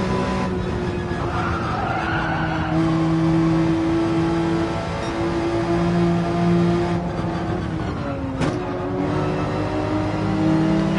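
A race car in a racing video game brakes into a turn with a sustained tire squeal and skid over a steady engine drone, continuous and loud throughout.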